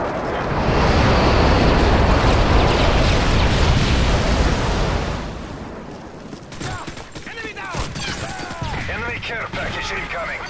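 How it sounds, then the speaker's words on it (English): A stealth airstrike from a Nighthawk in Call of Duty MW3 hardcore multiplayer lands as a long, loud, continuous roar of bombs for about five seconds, then fades into distant gunfire and lighter game noise. "Affirmative HQ, bombs away."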